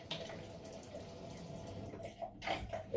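Tap water runs steadily and splashes as alum is rinsed off a face after a single-edge razor shave, a close, continuous wash with a few louder splashes near the end.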